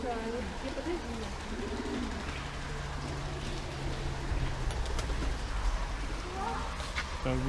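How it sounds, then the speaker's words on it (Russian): Pigeons coo in a domed aviary at a bird park, their soft repeated calls running under a steady hum of background noise and murmured voices throughout. "Так, здесь у нас купол голубей."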